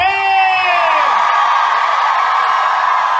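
A concert crowd at a show at House of Blues Anaheim roars, whoops and yells loudly and continuously, with a shouted cry sliding downward at the start.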